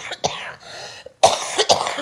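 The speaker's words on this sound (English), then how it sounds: "I'm coughing so badly" A woman coughs in several harsh, close bursts. Short rough barks come first, then after a brief pause comes a louder cluster of hacking coughs.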